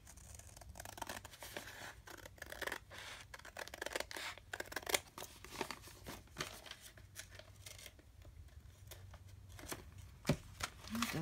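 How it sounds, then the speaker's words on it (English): Scissors snip and trim paper pages for a handmade journal inspired by Henry John Abele, a run of close, crisp cuts and rustles with some handling noise between them. "Just trim this off here a little bit"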